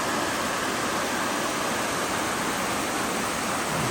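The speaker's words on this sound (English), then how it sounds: "Pretty little waterfall." A small waterfall spills over thin layers of slate rock, producing a steady, broadband rushing and splashing that holds even and fairly close throughout, with no voices.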